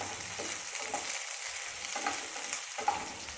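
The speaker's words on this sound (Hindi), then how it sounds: "और इनको हल्का सोटे कर लूंगी।" Chopped onions sautéing in hot oil in a pan for a Goan mushroom dish, a steady soft sizzle with occasional stirring scrapes, close and continuous with no talking.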